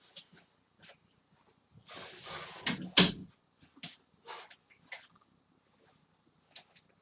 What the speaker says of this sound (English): close this door here